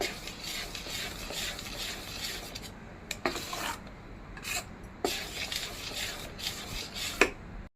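Ground lentil batter stirred in a bowl for Konkan khaproli, a steady close scraping and rubbing with a few sharper knocks of the spoon against the bowl.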